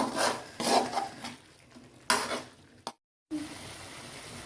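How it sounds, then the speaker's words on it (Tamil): Chicken gravy masala being stirred in a pan, heard as close scraping and rasping strokes in bursts with a faint sizzle, broken by a brief silent gap before the stirring resumes. "இதுவும் நல்லா பச்சை வாசனை போகிற அளவுக்கு நல்லா மிக்ஸ் பண்ணி எடுத்துக்கோங்க"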